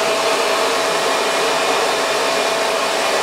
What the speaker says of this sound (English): Then I'm gonna take my blow dryer and I'm just gonna blow dry it so it stays that way.